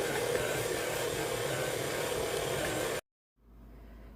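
Food processor whirring steadily as it blends a nut ball mixture made with figs, a loud continuous roar that cuts off abruptly, followed by a fainter hum.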